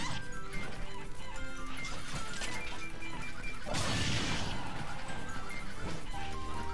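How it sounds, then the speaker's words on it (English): In the Smash Bros video game, a swarm of angry chickens mauls a fighter, heard as a sudden crash and flurry of squawks and hits over busy game music. "get mauled by angry chickens"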